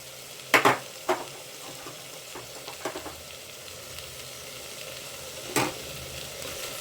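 Bottle gourd and soaked chana dal sizzle faintly in a pan, a soft steady hiss broken by a few sharp clatters of stirring against the metal.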